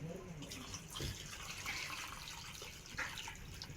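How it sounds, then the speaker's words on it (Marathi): Water is poured into a fish curry masala made with fresh river fish, a steady liquid splash and trickle running throughout at moderate, close level, with no talking. "तर चला आता आपण पाणी घेणार आहे टाकून मसाल्यामध्ये मस्तपैकी."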